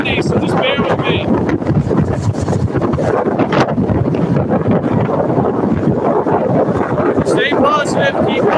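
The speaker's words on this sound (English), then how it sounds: "And it's very windy, so just bear with me." Strong wind buffeting the microphone in a constant loud roar, with a person talking over it and occasional high chirps.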